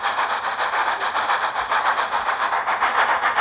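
Percy the small steam engine puffs up a steep hill, its steady rhythmic chuffing loud and close, with a continuous mechanical hiss and no voices.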